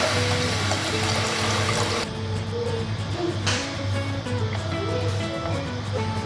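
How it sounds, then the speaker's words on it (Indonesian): Water trickles steadily into a pot of silken tofu soup with egg, a continuous running-water wash with a steady low hum beneath it and no voices. "Terus sekarang kita bisa masukin airnya pelan-pelan."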